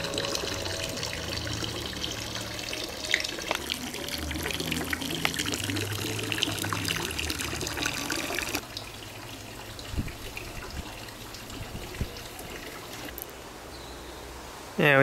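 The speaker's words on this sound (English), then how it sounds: "This is how the water gets replenished in the swimming pool from this little statue." Water trickles from a small statue into a swimming pool at a mansion on St Croix in the US Virgin Islands, a steady soft splash heard up close, with a brief change partway through.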